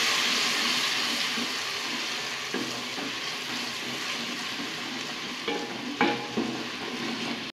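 Onions frying with garlic-ginger paste and a splash of water as a spoon stirs them, giving a steady sizzle with occasional scraping clinks against the pan.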